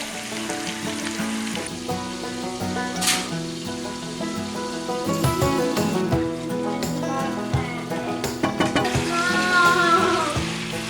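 Potatoes and onions sizzle steadily in a pan in a country kitchen, a continuous crackling hiss with occasional utensil clinks and stirring, while music plays underneath.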